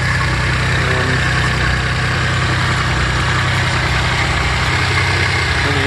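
A Maserati Biturbo 430 engine with three valves per cylinder idles steadily, heard close up as a loud, even mechanical drone with a low throb and no voices.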